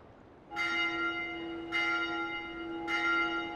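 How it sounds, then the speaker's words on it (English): A bell in the video game Dark Souls 2 is struck three times at an even pace, each ringing tone sustaining and overlapping the next, clear and without speech. "Knocking that bell a bunch"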